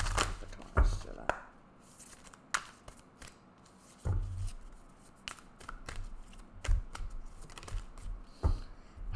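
Tarot cards being shuffled during a Taurus reading, giving a series of brief riffling and tapping bursts with pauses between them, fairly close, with talking at times.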